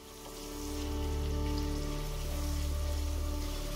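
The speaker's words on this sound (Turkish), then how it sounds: "İki orta boy ince doğranmış soğanı ve 3 diş sarımsağı ekleyip kavuruyoruz." Oil sizzles and crackles steadily over a low hum as chopped onions and garlic fry, the frying noise rising slightly and then holding even throughout.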